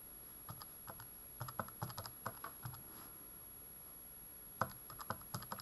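Calculator keypad buttons pressed in quick bursts of light clicks with pauses between, close and quiet, no talking.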